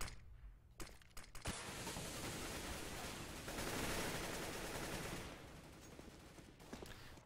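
AK rifle fire in a shooter video game, with dense rapid bursts of shots blending into a continuous loud crackle that swells midway and then thins out near the end.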